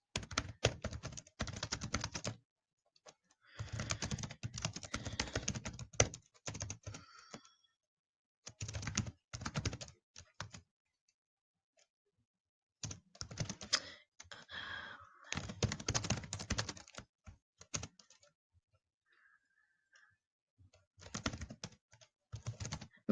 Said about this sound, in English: Okay, so we're just going to type something.